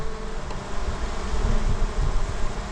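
Bees buzzing during a bee rescue, a dense swarm hum with individual insects droning close by, steady and fairly loud against outdoor air.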